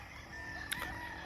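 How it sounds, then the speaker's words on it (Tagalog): Fighting roosters crow in a rural Philippine province, one short, faint, distant call rising above low steady background noise. "Saka kung maririnig nyo diyan sa kabila ay"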